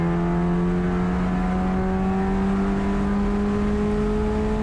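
A Mitsubishi Evolution on old tires accelerates onto the straight at Thunder Hill East, its engine a loud, sustained in-car drone that climbs slowly in pitch.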